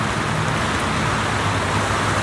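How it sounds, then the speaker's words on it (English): Heavy rain pouring steadily at a crime scene in the video game Heavy Rain, a dense unbroken wash of rainfall with a low rumble underneath and no speech. "Goddamn rain. Hasn't stopped pouring since I arrived."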